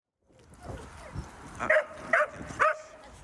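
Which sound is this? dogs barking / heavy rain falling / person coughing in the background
dogs barking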